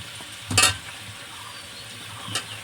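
Desi chicken meat sizzles as it fries in a pan, a soft steady frying hiss broken by two brief scraping stirs, one loud early and a fainter one near the end.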